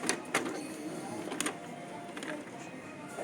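An Epson L3210 inkjet printer runs a test page, giving a close mechanical whir with short clicks and sharp bursts as the print head moves, and faint speech can be heard underneath.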